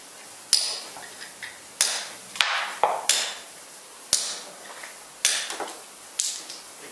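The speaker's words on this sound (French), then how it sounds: "Donc je vais enlever la bosse avec une pointe." A hammer drives a point chisel to knock a bump off a granite block, giving about eight sharp, separate metallic strikes at an uneven pace, each chipping the stone.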